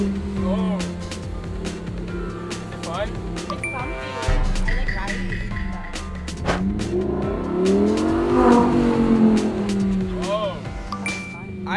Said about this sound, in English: Claire is currently driving the Lamborghini